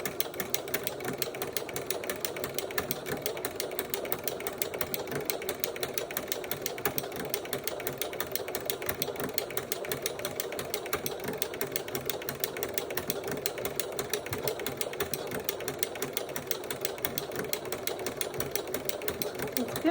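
Domestic sewing machine stitching lace onto a dress, set to a stitch length of 3, running in a steady, continuous rapid whir at moderate volume with a faint voice underneath.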